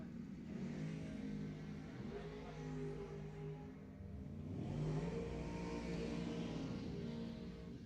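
A Camaro and a dragster launch side by side at Lebanon Valley Dragway, engines revving hard and building to a loud sustained roar, with the crowd and track ambience underneath.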